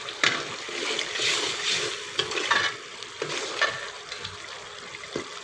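Masala with browned onions sizzling in a pan while it is fried and stirred, a steady crackling hiss broken by clinks and scrapes of the spoon, close and moderately loud, with no talking.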